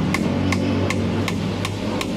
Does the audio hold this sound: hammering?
yes